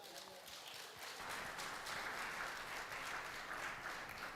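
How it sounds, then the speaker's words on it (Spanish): A congregation at a Papiamentu church service applauds the Lord, a quiet start swelling into steady, even clapping heard from some distance. "¿Cuánto le da un aplauso al Señor?"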